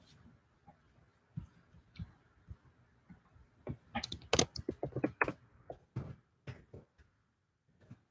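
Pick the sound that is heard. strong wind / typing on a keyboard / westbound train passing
typing on a keyboard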